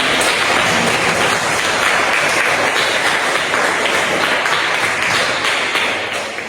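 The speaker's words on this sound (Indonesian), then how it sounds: "tepuk tangan semua bagi kita semua" A classroom group gives sustained applause after a student presentation, a dense, steady wash of many hands clapping close by that fades slightly at the end.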